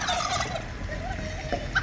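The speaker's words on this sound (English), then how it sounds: "These guys got some beautiful turkeys." Turkeys gobble in a Georgian village yard, with several close, warbling calls layered over steady outdoor background noise.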